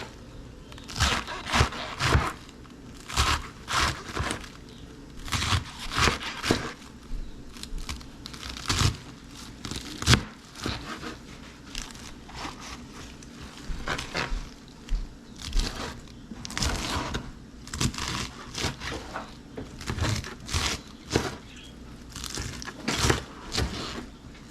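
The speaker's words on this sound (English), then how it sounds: "Now she's cutting it in half. And she's gonna cut it horizontal and vertical." Knife cutting and dicing lettuce on a board for soft tacos: steady, irregular crunchy chops and crisp tearing sounds, close by, repeating for the whole stretch with no talking.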